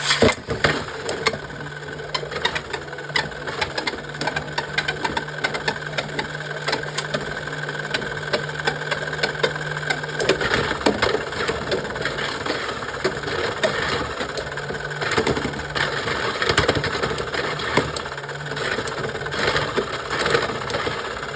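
Beyblade X spinning tops, Hell Scythe against Drawn Sword, battle counterclockwise in a stadium with a steady whirring grind, then sharp clashing clicks and scrapes partway through as they collide, continuing to spin.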